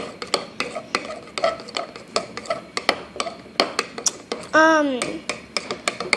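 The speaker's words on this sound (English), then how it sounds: "now we're going to stir a little bit more" Slime mixture being stirred in a bowl, giving a steady run of quick, sharp wet clicks and taps close up, with a brief squeaky squelch near the end and no talking.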